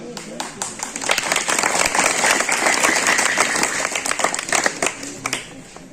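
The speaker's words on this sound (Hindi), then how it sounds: "उनके लिए जोरदार ताली बजनी चाहिए" A village audience at a gabion check dam inauguration ceremony claps loudly and steadily for several seconds while a voice keeps talking over the applause.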